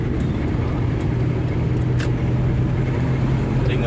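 A Toyota Kijang Krista converted from manual to a semi-automatic transmission with an automatic clutch, its engine holding a steady, loud, close rumble with a little revving and no talk.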